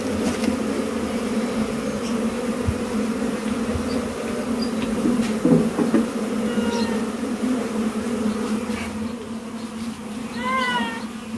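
A swarm of honey bees being moved from a cave colony fills the air with a steady droning hum throughout, with faint chirps and scattered small sounds on top.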